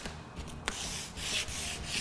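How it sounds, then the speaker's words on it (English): Sandpaper rubbing along the edge of a custom wood bar being finished to look like poured concrete, a steady close scratchy rasp in continuous strokes with one brief knock partway through. "we'll kind of finish sanding any spots out we want"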